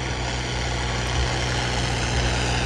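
John Deere tractor engine running in a field while pulling an 18-disc harrow, a loud, steady low diesel drone that stays constant and close throughout, with no speech.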